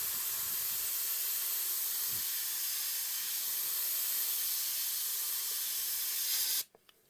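An airbrush sprays black paint from a miniature painting kit in a steady, close hiss that holds for several seconds before cutting off abruptly near the end, followed by a couple of faint clicks.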